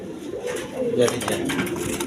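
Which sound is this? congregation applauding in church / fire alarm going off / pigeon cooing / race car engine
pigeon cooing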